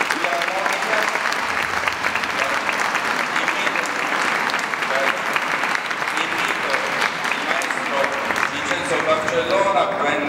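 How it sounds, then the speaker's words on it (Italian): Audience applause fills a concert hall at an Italian choral performance of Ave Verum, a dense, even clapping from a large crowd that holds steady throughout without pause. "facciamo un applauso al maestro Barcellona, che ancora coordina."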